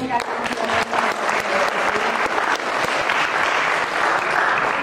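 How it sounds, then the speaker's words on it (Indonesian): Students and teachers at a school gathering applaud together in a steady, full wash of clapping, with voices chattering and calling out underneath. "Ini juga hadir lengkap sekali, tepuk tangan dong."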